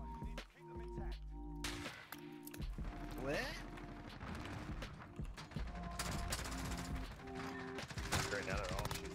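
Rapid gunfire from a Call of Duty Search and Destroy match with a P90, bursts of shots and mechanical clatter throughout, heard under game voices and music-like tones with people talking.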